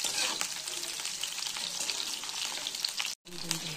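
Vegetables for a mung veg dal fry steadily in hot oil in a pan, a continuous loud crackling sizzle with a brief break near the end, no talk.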